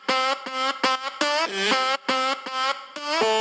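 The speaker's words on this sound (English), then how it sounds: "I just added this vocal chop lead that sounds like this." Pitched-up vocal chop lead, a sampled voice raised an octave and played as a synth line in Logic Pro X, with short, bright, stuttering syllables in a choppy rhythmic phrase, loud and alone.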